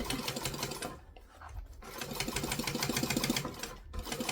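Sewing machine stitching fabric layers: a rapid mechanical whirring chatter in short runs, with a brief pause, then a steady stitching stretch, close and clear with no voices.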